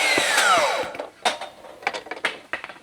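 A standard miter or table saw cuts through a PVC board with a loud, whining cut that winds down in the first second, followed by a run of sharp knocks and clatter as the pieces are handled.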